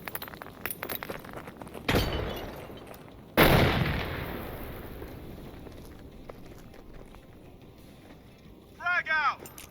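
A frag grenade lands and detonates in a tactical shooter video game: a loud booming blast preceded by a thump, with a short electronic chirp near the end and voices calling out.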